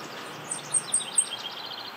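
A warbler sings a very high, thin song of a few slow, lazy notes, faint and distant over soft background hiss.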